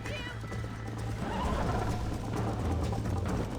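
Galloping hooves in Red Dead Redemption pound steadily beneath game music and ambient noise, with a horse whinnying briefly near the start.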